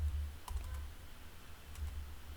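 Someone types on a computer keyboard, with a few quiet, scattered key clicks close by over a low background hum.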